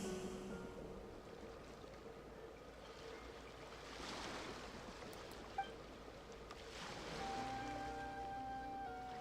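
Ocean waves in the video game Genshin Impact wash steadily in a continuous surf wash, with a brief click partway through and tonal game ambience layered in, no voices.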